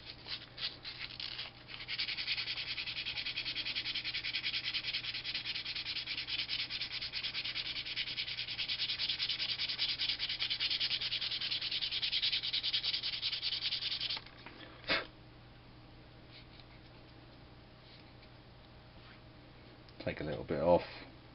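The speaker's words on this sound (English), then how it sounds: "Make sure once you've sanded it, you remove all the dust, because the dust is the material you've taken off." Propeller being sanded to balance it, a steady close rubbing rasp that runs for about twelve seconds and then stops, followed by quiet and a short rustle near the end.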